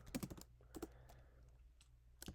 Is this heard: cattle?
no